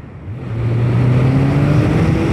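A 600cc motorcycle engine revs up and accelerates, its rising tone loud and close, steady after the throttle opens, with no talk.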